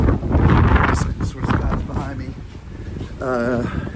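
Heavy wind buffets a cruise ship deck on the NCL Aqua, roaring loudly into the microphone with gusts, while someone talks over it throughout.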